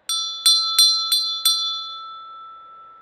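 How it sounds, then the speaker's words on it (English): A bright bell struck five times in quick succession, each ring clear and close, with the last tone ringing out and slowly fading. "I will just sound the bell."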